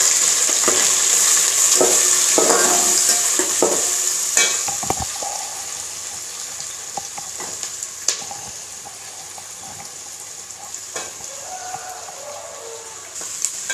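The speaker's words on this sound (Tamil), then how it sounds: "கோல்டன் ப்ரௌனாக வர்ற வரைக்கும் வதக்கணும்." Onions and green chillies sauté in hot oil in a pan for a mushroom biryani, giving a loud, steady sizzle broken by occasional stirring scrapes that fade slightly toward the end.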